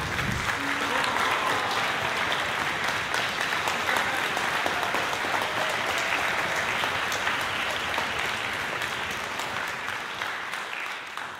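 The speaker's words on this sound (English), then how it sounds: "Let's give a big round of applause for our award recipients." Award recipients at a high school spring concert get steady, full audience applause from a large crowd. The dense clapping continues throughout and tapers slightly at the close.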